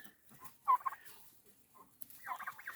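Broiler BIG 6 turkeys gobble in short, faint bursts, one call early and another near the end, with quiet pauses between.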